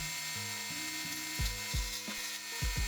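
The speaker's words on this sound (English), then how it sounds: "I'll use my rotary tool to remove the wheels from the axles." A rotary tool cuts the wheels off the axles of a Matchbox No. 25B Volkswagen diecast model, giving a close, buzzing grind that dips and surges in short repeated bursts.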